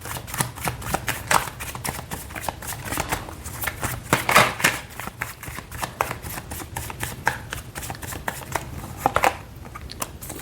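Tarot cards are shuffled and drawn by hand, giving a fast run of crisp flicks and soft snaps up close, with no talking.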